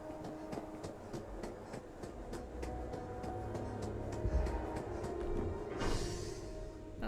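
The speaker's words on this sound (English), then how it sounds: "Oh, it's subway down here." A subway train in the Starfield video game rumbles and clatters steadily beneath a residential district, with rhythmic wheel clicks and a brief hissing rush near the end.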